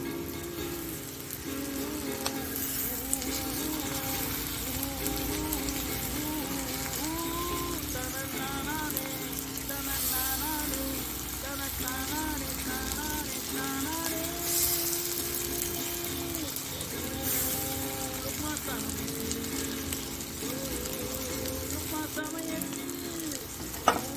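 Ginger potatoes fry in a pan with a steady, dense sizzle throughout, punctuated by occasional stirring scrapes and small crackles.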